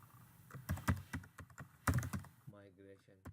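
Fast keystrokes on a computer keyboard as a name is typed in, a quick run of close, crisp clicks that stop at the end while someone talks.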